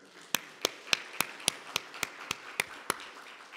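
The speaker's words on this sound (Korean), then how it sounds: "우리 박수 한번 해주십시오." A church congregation at a Sunday evening service in Wonju claps in a slow, even rhythm, about ten crisp separate claps at a steady pace over a low room murmur.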